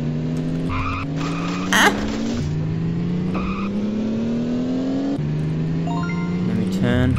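Car engine in the On The Run racing game revving and accelerating through repeated gear shifts, with tire squeals and a nitrous boost, loud and continuous, under a man's occasional brief exclamation.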